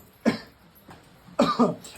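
Three or four short, sharp coughs from a person with a cold caught in the rain, close and fairly loud, with brief pauses between them.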